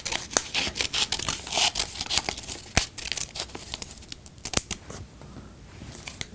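Scissors cut a paper strip lengthwise down its center in a quick run of snipping and crinkling sounds, close and fairly loud.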